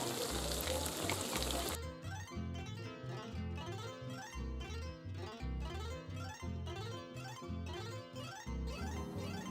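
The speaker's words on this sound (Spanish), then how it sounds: "Y las croquetas las vas friendo de esta manera." Croquettes of flour, egg, baking soda and salt batter frying in hot oil, a steady close sizzle with a rhythmic pulsing beat underneath throughout.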